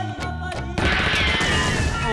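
A doorbell ringtone that mimics gunfire bursts out loud at once, dense crackling shots filling the clip after a short stretch of sitcom background sound.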